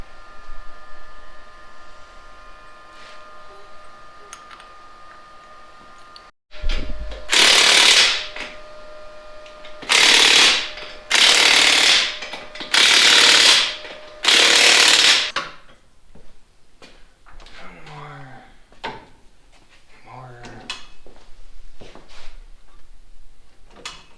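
Power tool fastening tabs to the top of a Stublazer build, a handful of loud, close bursts of one to two seconds each, with quieter shuffling and clatter between them.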